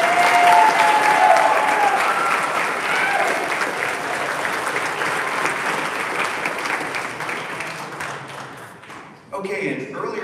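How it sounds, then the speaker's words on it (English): Audience applause fills a school band concert hall, a loud sustained wash of clapping that gradually tapers off before a voice begins speaking at the end. "So please give them another round of applause."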